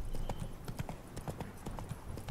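Horse hooves clopping at an easy riding pace in The Witcher 3, a quick steady rhythm of distinct moderately loud hoofbeats repeating throughout the short span.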